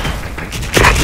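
Grenade explosion in the shooter game Bull SF, a loud close boom with a deep low-end rumble that swells sharply near the end of the second.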